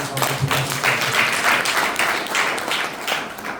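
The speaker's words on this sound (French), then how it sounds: "s'il vous plaît, applaudissez une fois de plus" Audience at a real estate summit applauds a speaker, giving sustained, even clapping from a crowd that holds steady for the whole stretch, with no talking.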